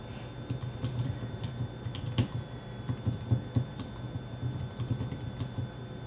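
Someone types steadily on a computer keyboard, a close run of quick clicky keystrokes with irregular rhythm and occasional louder key presses over a low background hum, no talking.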